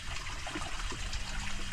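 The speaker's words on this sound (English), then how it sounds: "I had no clue there was a waterfall right here." A waterfall beside a lake in rugged terrain produces a steady, close, full rushing wash of falling water with no breaks.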